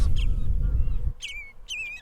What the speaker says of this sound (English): They're like, I don't know if you hear it, they're like chirping all around.